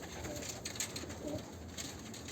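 Pigeons in a loft give soft, low cooing calls, several overlapping coos close by but faint, over a quiet background hum.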